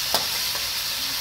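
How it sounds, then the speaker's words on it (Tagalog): Pork fat frying and rendering oil in a pan for pork kaldereta, a dense, steady, close sizzle and crackle with a faint brief stir near the start. "Lalabasin natin ang mantika para tumaya"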